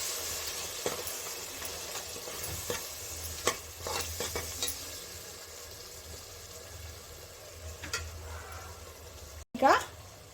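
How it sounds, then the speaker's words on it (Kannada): Curd being mixed into egg rice in a pan with a spoon, giving soft scraping strokes and light clinks over a faint sizzle, with a louder clatter near the end. "ಮೊಸರು ಹಾಕೊಂಡ್ಮೇಲೆ ಒಂದ್ಸಲ ನೀಟಾಗಿ ಮಿಕ್ಸ್ ಮಾಡಿ"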